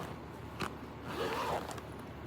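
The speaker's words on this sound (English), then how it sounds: "It zips closed." A zipper pulled closed on a fabric garden cover outdoors before snow, one quick zip-like burst followed by a longer, slightly louder rasping pull, fairly faint and alone.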